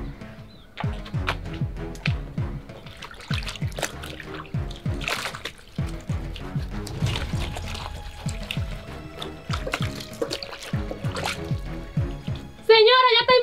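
Clothes being washed by hand, with irregular splashes, drips and sloshing of water, close and steady throughout, ending in a brief high warbling tone.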